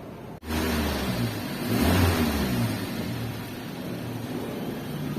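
Car engine rising in a brief rev and then holding a steady mid-pitched hum, with the car in first gear and the clutch released slowly against the brake.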